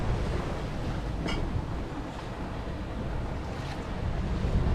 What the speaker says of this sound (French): Et là il y a pas mal de vent qui rentre.